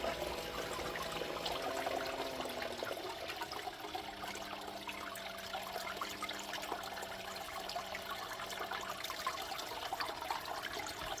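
A steady sheet of water runs over a Miller table used to separate gold from sand, making a constant close wash with faint tonal hums layered in.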